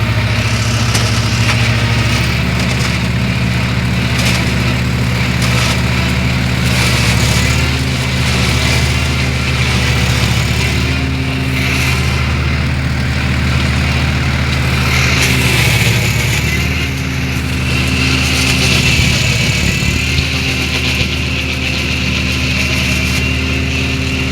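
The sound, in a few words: tractor engine running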